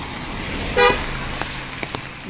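A car passes close by and gives one short honk, followed by faint traffic and a couple of soft knocks beside a large compound near a village temple in rural Konkan.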